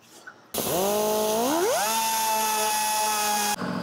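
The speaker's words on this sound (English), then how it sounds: "do just a tiny bit of dremeling right there" A Dremel rotary tool runs on the battery box of a 2023 KTM 300XC dirt bike, spinning up to a steady, loud, high whine that holds for about three seconds before cutting off.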